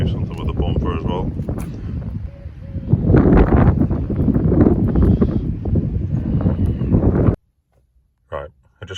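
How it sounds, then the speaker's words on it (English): Strong gusty wind roars and buffets the microphone for several seconds, then drops away abruptly to near silence with a couple of brief bursts. "it was too windy out there"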